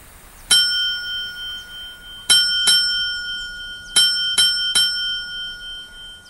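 A small handheld bell on a wheelchair rings in sharp metallic dings, one single strike followed by a pair and then a quick run of three, each clear and ringing out briefly in a quiet room.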